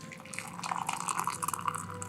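Water is poured over a bagged green tea, giving a steady close trickle and splash with bubbly gurgles as the cup fills, without talking.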